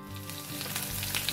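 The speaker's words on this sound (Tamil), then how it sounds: "அப்போ எண்ணெயை சூடாக்கி போட்டு கடுகை போட போகிறோம்." Mustard seeds frying in hot oil for a South Indian rasam tempering, a steady close sizzle with faint crackling pops and no talk.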